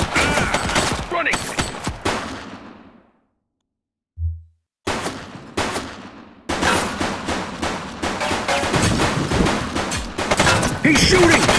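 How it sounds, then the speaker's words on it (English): Rapid bursts of gunfire from a suspect shooting in a police video game, loud and dense, with a short silent gap, then sustained volleys of shots over background voices. "He's shooting!"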